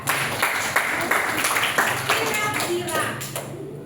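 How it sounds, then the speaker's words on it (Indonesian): Classroom applause at a vocational school lesson, a group clapping in scattered irregular taps throughout, fairly close, with some voices mixed in underneath. "Tepuk tangan untuk Anda semua."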